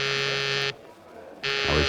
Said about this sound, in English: I was thinking about it when the call buzzer zizzed in my ear.